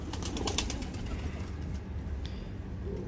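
A domestic pigeon coos softly in a loft, low repeated murmurs under faint background noise, with a few brief higher chirps from other birds.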